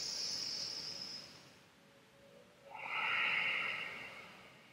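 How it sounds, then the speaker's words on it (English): Deep yogic breathing close to the microphone: a hissing inhale, a quiet pause, then a stronger rushing breath, soft and alone against a faint background. "Now three yogic breaths."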